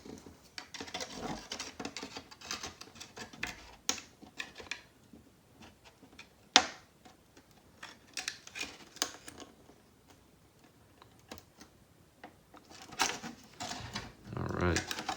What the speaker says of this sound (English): these curved scissors aren't really made for straight cuts, so if you try to make a straight cut, it's a greater challenge because you have to go slower when cutting